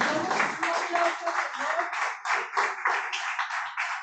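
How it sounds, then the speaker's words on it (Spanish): A church congregation, with some members joining online, claps after a closing prayer, a patchy rhythmic round of hand claps over murmured voices and a sustained tone underneath. "Damos un aplauso"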